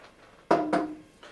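Ale, an earthy ESB-style beer, poured into a glass: a close pouring gush with a second splash and a fizzing tail, brief and alone.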